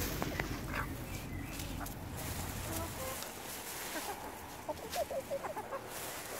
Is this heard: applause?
no